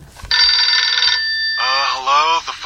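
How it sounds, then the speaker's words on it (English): A phone ringtone plays loudly, first a steady bright electronic ring, then a shifting series of voice-like tonal bursts, close and alone. "The phone's ringing for you?"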